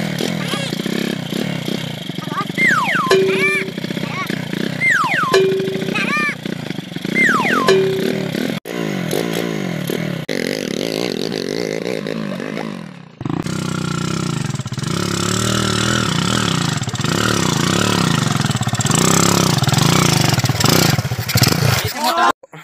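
An old 1980s motorcycle engine idles and revs in short bursts, a mid-pitched running note with a few sharp accelerations, heard close by under men chatting casually.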